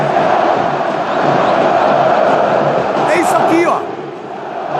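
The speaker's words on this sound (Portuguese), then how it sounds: "Aí a torcida do Corinthians aqui, ó." Corinthians football supporters chant as a dense, steady crowd roar that fills the whole stretch, easing slightly near the end, with a voice over it.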